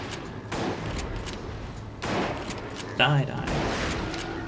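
Shotgun blasts in the Resident Evil video game, two or three loud booming shots over steady game background noise, with a short voice line.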